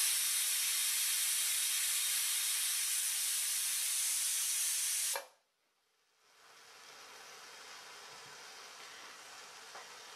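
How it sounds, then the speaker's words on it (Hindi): A pressure cooker on high heat, cooking dry-roasted mutton, lets out a loud continuous steam whistle hiss for about five seconds, then cuts off abruptly, leaving a faint hiss behind. "कुकर में तेज आंच पे 1 सीटी लग चुकी है।"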